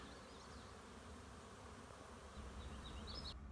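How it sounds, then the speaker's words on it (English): Young honeybees buzz around beehives during spring orientation flights, a steady, fairly faint droning hum with occasional single bees passing closer. "New young bees doing orientation flights and got honey."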